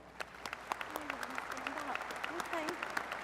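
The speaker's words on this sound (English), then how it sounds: "Please join me in an applause for everyone." A university commencement crowd claps for the graduates, a moderately distant, even patter of many hands with faint voices murmuring underneath.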